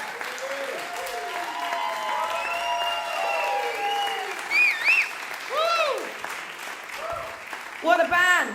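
An audience applauds a New Orleans band with steady, dense clapping, while a voice talks and sings over it.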